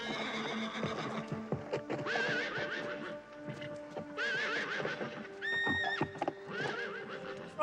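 A horse whinnies and neighs several times over clip-clopping hooves in a 1980s vampire movie scene, loud and close, with no talk.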